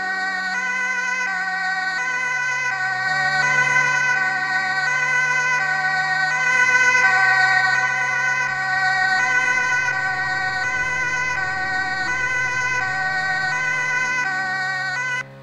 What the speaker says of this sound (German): Ich muss einmal hier durch den Tunnel mit Sirene durchkommen.